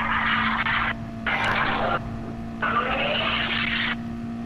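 A human voice imitates a Lamborghini Aventador engine revving, with three long, loud, buzzing bursts separated by short pauses over a steady background hum.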